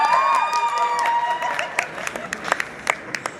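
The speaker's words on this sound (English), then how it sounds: "A round of applause for our partner." A few people clap for a partner at a YouTube creator masterclass in a hall, the applause thinning into scattered separate claps.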